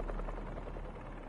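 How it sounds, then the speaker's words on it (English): Low pulsing drone like helicopter blades in the video game Spider-Man 2, made as a low-frequency boost with a pulse: a steady rapid throbbing beat, close and moderately loud, alone. "Something like a helicopter's blades."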